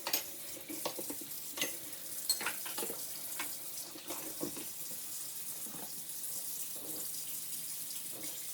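Water rushing and splashing steadily as a dishwasher load fills in a home kitchen, a continuous hiss with small irregular clinks and splashes throughout, fairly close and without speech.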